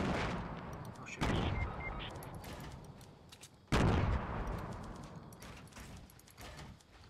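Gunfire in the Fortnite battle royale video game, with two sharp loud bursts followed by decaying rattling echoes and scattered further shots, under faint background game noise.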